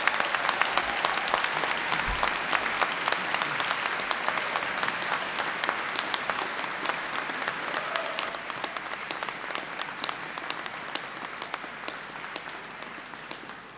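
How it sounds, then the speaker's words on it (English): Graduation ceremony crowd in Canterbury breaks into sustained applause, dense rapid clapping from a large audience in a hall, loud and continuous for over ten seconds, slowly thinning toward the end. "give yourselves a round of applause because you did that"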